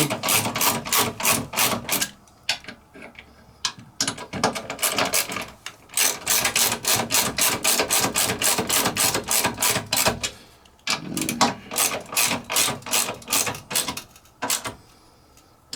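Ratchet snugging down the motor bolts on a Horizon treadmill during a motor replacement, a rapid run of close, loud clicking bursts with brief pauses between strokes, no voices.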